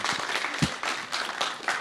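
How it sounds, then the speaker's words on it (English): Moderate applause from an audience at a university student founder showcase, a short burst of scattered clapping at low volume. "Yeah, a round of applause, please."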